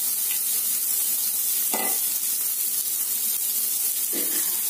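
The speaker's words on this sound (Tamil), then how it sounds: "இதெல்லாம் வறுத்துண்டு பல்லா நறுக்கி வச்சிருக்கிற தேங்காயம் சேர்த்து வறுத்துண்டு" Coconut pieces, chili and curry leaves fry in a pan for a Karadaiyan Nombu adai recipe, giving a steady close sizzle and hiss with a few soft stirring scrapes and no talking.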